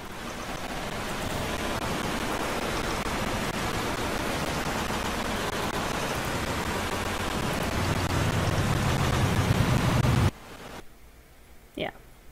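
Steady rain as a broad, even hiss lasting about ten seconds, then cutting off abruptly and leaving near silence with a brief faint sound near the end.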